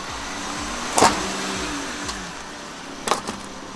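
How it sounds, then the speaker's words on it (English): A van rolls over a Warrior X Pro scooter outdoors, with a steady engine hum and car noise throughout, two sharp crunching impacts about two seconds apart as the wheels pass over it. "let's run over it with the van"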